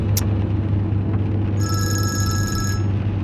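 A telephone bell rings in one sustained burst over a steady low engine hum, like from inside a moving car.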